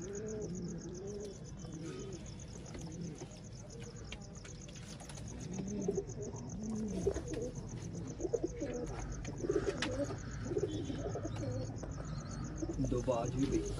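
Malwai desi fancy pigeons coo and call steadily through the clip, the birds close by amid a busy background where a voice occasionally speaks.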